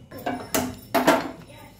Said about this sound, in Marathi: गॅस पेटलेला आहे तर त्याच्यावर कुकर ठेवलेला आहे।